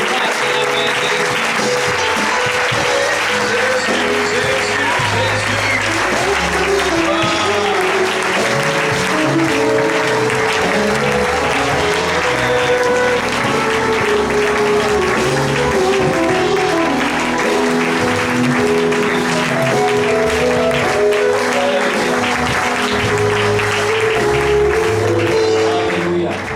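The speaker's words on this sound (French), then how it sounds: "Est-ce que nous pouvons acclamer Jésus?" A church congregation at a seminar applauding to acclaim Jesus, loud, dense clapping that carries on without a break, with a few voices mixed in.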